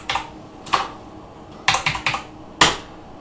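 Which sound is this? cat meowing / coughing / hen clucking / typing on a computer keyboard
typing on a computer keyboard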